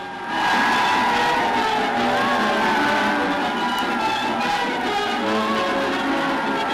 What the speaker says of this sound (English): See the lines of cheering nurses, hospital workers, and patients in hospital blue as the King's car comes into sight